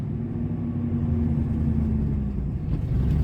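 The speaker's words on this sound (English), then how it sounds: "It's chugging really hard." A 2000 Ford F150 engine idles high and erratically, chugging hard with a steady low rumble and uneven throb, close and alone with no talk.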